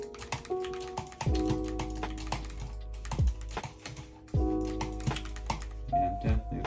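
A keyboard and mouse are used to play Fortnite on a PS5, with rapid, near typing and clicking going nonstop under game sounds.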